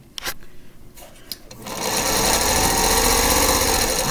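A home sewing machine stitches the last border onto a scrappy quilt, starting with a few short taps before settling into a loud, steady, continuous whir that runs to the end.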